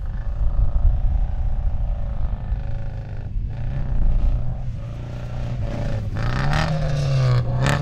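A Mazda MX-5 drift car, handbrake removed and running rough, idles and revs with a steady low engine rumble that climbs in pitch toward the end, close by outdoors on an airfield.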